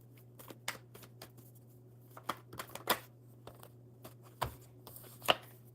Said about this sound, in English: Let me finish shuffling and getting it.